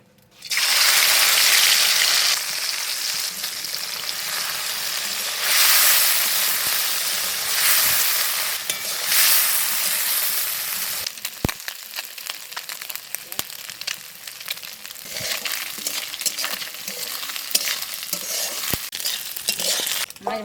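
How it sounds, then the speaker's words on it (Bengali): Small fish go into hot oil in a wok and set off a loud burst of sizzling that settles into a steady crackling fry, with scattered clicks and knocks from stirring through the second half. "এবারে মাছ ভেজে নেবো।"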